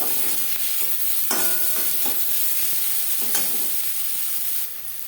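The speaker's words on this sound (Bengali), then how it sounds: "দু মিনিট পেঁয়াজ টমেটো ভেজে নেওয়ার পর দিয়ে দেবো রসুন।" Crushed garlic cloves frying with onion and tomato in a pan, a dense continuous sizzle close by, broken by a few spoon scrapes and clinks against the pan.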